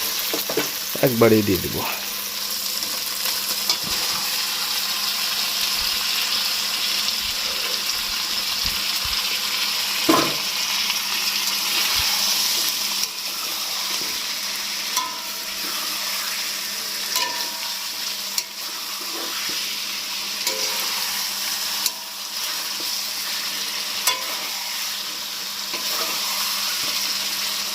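Chicken pieces hit a hot pan with a loud initial sizzle, then fry steadily while being stirred and scraped, with a brief spoken line near the start.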